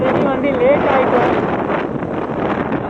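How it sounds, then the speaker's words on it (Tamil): Strong wind buffets the microphone in a steady, loud rush near Sulur airport, with a vehicle's motion beneath it and no clear voices over the roar. "காற்று ரொம்ப அதிகமாக இருக்குது காய்ஸ்."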